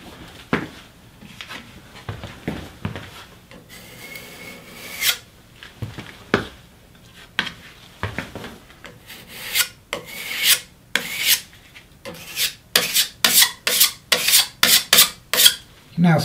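Intermittent scraping strokes of a spreader pulling Bondo filler across a pool table slate joint, irregular at first, then quicker repeated passes toward the end.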